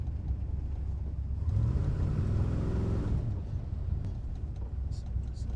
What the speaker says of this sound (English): The car just revs and slows itself down.